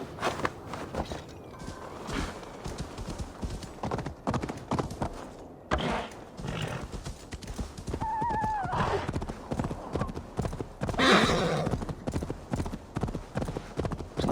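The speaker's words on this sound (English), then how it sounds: "Se a gente for a cavalo, deixa lá ver se a gente consegue safar aqui um bocadinho mais rápido." A horse in the video game Assassin's Creed Valhalla clip-clops along at a quick pace, with hoofbeats steady throughout and a brief whinny midway.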